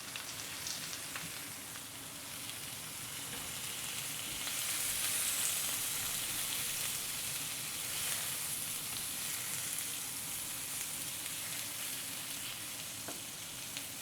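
A bone-in Italian bistecca steak searing and browning on its fatty side in a hot pan, a continuous, fairly faint frying crackle and hiss that swells slightly midway and holds steady.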